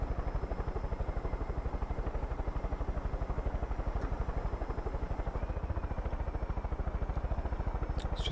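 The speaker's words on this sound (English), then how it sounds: "We are in a helicopter, so we should get there pretty quickly," A helicopter in the video game Far Cry 5 flies with a steady, fast rotor chop over a deep engine drone, loud and continuous from inside the aircraft.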